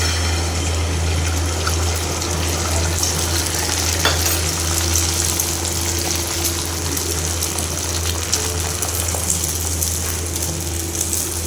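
Halved bun rolls toasting in a hot pan give a steady, close sizzle that runs evenly throughout, with no voices over it.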